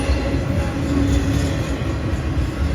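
A train passes close by in the Evansville, Indiana area, a loud continuous rumble of rolling cars and wheels on track, with no voices.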